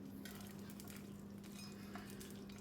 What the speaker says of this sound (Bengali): সর্ষের তেলটা ভালো মতন গরম হলে এখানে বড়িগুলো একটু ভেজে নিচ্ছি আগে